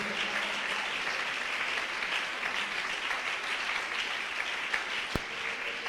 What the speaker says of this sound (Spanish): Dele ese aplauso fuerte a la gloria de Dios